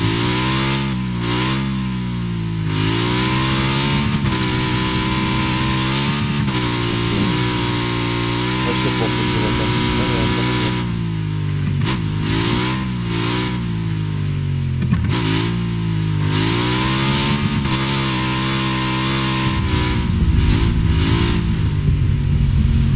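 A vehicle drives in the PUBG battle royale video game, its engine droning loud and steady with rising and falling revs throughout, a continuous mid-pitched motor tone that never drops out.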